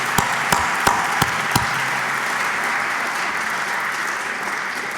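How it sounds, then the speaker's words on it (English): Audience applause for student-athletes at a university athletic hall of fame induction ceremony: a few sharp, close claps stand out at first, then the clapping merges into a broad, steady wash that carries on evenly from a sizable crowd. "Let's have a big applause for our student-athletes."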